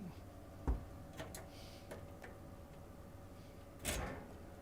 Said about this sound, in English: I've opened the door